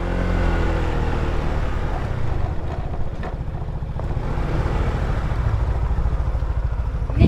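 Motorcycle idling and rolling in to park, a low steady engine rumble up close with wind buffeting the microphone throughout.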